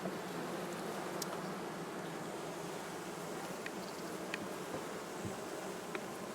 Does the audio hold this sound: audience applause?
no